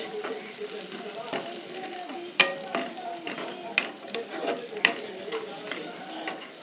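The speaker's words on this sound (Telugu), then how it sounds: "ఇలా ఫ్రై అయిన తర్వాత ఇందులోకి చిటికెడు పసుపు, రుచికి సరిపడా సాల్ట్, అలాగే కొంచెం కారం వేసుకొని బాగా కలిసే వరకు తిప్పుకోవాలి." A fried mixture seasoned with turmeric, salt and chili powder is stirred in a pan, giving steady sizzling with scraping clinks from the spoon. The sounds are close and moderately loud, with sharper knocks now and then.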